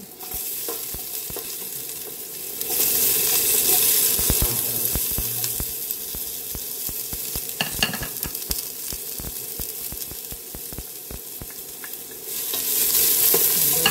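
Onion sautéing in hot oil in a pan, close continuous sizzle that swells louder after a few seconds, with scattered spoon scrapes and taps and no talking.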